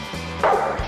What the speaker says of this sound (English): Isaac, a golden Labrador, belongs to Gary Weimer of Heath, Ohio